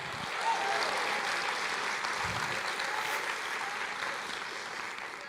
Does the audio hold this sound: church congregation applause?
yes